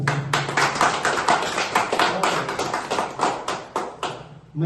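Audience clapping in honour of Republic Day, a fairly close, dense patter of many hands that runs for the whole stretch and swells and dips in waves before dying away.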